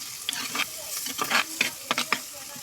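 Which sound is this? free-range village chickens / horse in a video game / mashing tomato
mashing tomato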